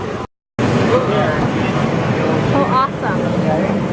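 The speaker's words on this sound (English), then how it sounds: "I'm not sure what kind of plane this is." A steady, loud airplane engine roar fills the scene, continuous and close, with a voice talking over it.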